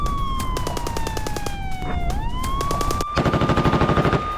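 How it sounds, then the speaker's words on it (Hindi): Rapid machine gun fire in the Russia–Ukraine war, a fast, steady burst of loud shots near the end, layered with a rising and falling siren wail through most of the stretch. "रूसी ठिकानों में घुसकर मशीन गन से फायरिंग की"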